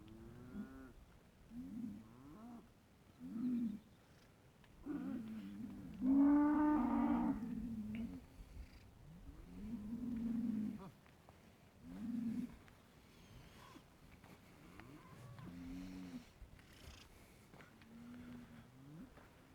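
A village herd of cows and young bulls moo and low in turns across a quiet open space, some calls deep and drawn out, others shorter, spaced a few seconds apart.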